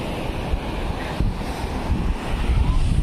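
Sea waves roll onto Niladri beach in a continuous loud wash, mixed with heavy wind buffeting the microphone and swelling surges.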